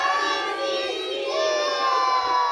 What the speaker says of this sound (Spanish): Vamos a hacer el grito de la Llorona todos juntos a la de tres, pero muy fuerte